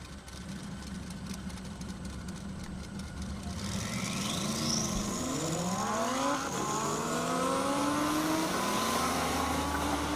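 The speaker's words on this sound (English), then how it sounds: "Coming up, Dan Trickle in the 2010 Chevy Camaro SS and Julian Bassler in his 2018 Lamborghini." A 2010 Chevy Camaro SS and a 2018 Lamborghini accelerate in half-mile airport drag racing, engines rumbling at the line before loud rising revs sweep upward through the gears over a steady roar.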